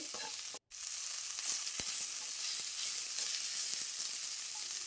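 Ginger garlic paste fries in hot oil with a steady, close sizzling hiss and occasional soft pops. There is one brief dropout early on.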